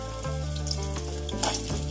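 Shallots tempering in hot oil in a pan for brinjal drumstick sambar, a loud continuous sizzle and crackle heard up close with no voices.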